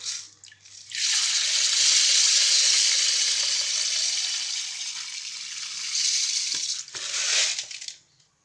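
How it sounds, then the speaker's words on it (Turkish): Rice pours into a bowl of warm water for an Azerbaijani boyanali pilov, a loud continuous rushing hiss that holds steady for several seconds, eases briefly, swells again, then cuts off. "qabımıza biraz ilıq su alırıq və düyümüzü tökürük həmin ilıq suyun içinə."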